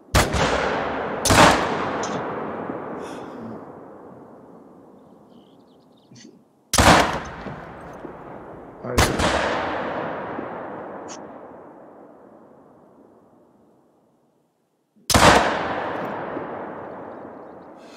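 Gunshots in a PC hunting video game: four sharp, loud single shots spaced several seconds apart, each followed by a long, fading echo tail.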